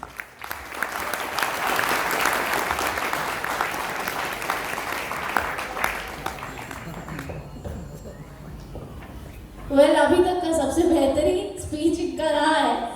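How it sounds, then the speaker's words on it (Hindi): Audience at a business motivational event applauding, dense clapping for about six seconds that fades out, followed by someone speaking loudly near the end. "एक बार इनके लिए जोरदार ताली बजाएं।"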